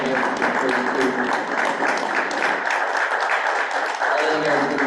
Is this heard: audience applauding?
yes